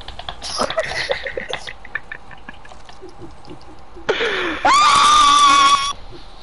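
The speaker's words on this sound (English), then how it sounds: "Scream." A person lets out a loud, sustained scream lasting a couple of seconds, rising sharply over faint background chatter during a live PS4 game broadcast.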